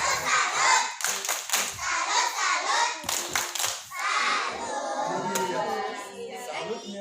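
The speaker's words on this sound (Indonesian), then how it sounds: "Yang pertama untuk tepuk salut Pikachu Mutia." Children and adults at a kindergarten perform a rhythmic group clapping routine in Aceh, crisp patterned claps in bursts, with chanting and voices mixed in between the clap sequences.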